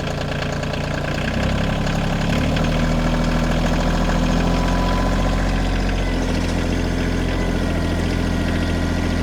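A KIOTI tractor engine idles loud and close after warming up, a steady, slightly knocking diesel rumble with a small rise in revs early on and no talking.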